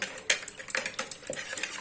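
Quick, irregular metallic clicks and taps of a utensil hand-whisking eggs in a bowl, close by, with no talking.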